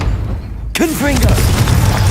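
A Confringo fire spell goes off in the video game Hogwarts Legacy, a sudden loud burst followed by a rumbling fiery roar, with a voice speaking briefly over the blast.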